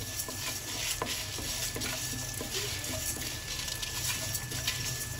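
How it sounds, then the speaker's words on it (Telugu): Bitter gourd dry-frying in a pan without oil while being stirred, giving a continuous scraping, rattling stir with faint sizzle throughout, close and even, with no talking. "నెయ్యి ఉంటే నెయ్యి వేసుకొని వేయించుకోవచ్చు, లేదా మామూలుగా ఇలా ప్లెయిన్గా వేయించు."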